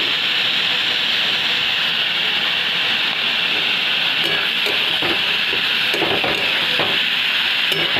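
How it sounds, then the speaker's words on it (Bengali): Pumpkin leaves sizzle steadily in a hot pan for Bengali pumpkin greens, with irregular scraping clinks of a spatula stirring through them, close and continuous with no talking. "শাকটাকে ভালো করে ভাজতে হবে এখন"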